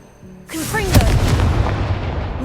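A Confringo blasting spell explodes in the video game Hogwarts Legacy, a sudden loud boom erupting after a quiet start and rumbling on with crackling debris, with a brief voice heard in the mix.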